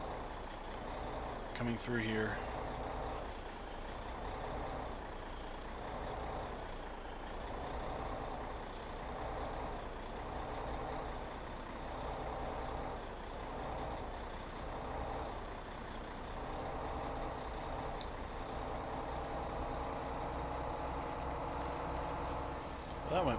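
An off-road truck in a farming simulator grinds along with a steady, droning engine rumble. Someone talks briefly over it, and faint clunks and a short beeping rise near the end.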